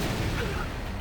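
Explosive spell effects in the Final Fantasy X-2 battle, a loud dense rumble of booming blasts filling the whole moment with no gaps.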